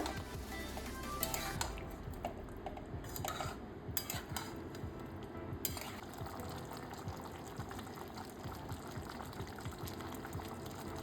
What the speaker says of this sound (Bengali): এবারে ভালো করে আমি মিশিয়ে নেব।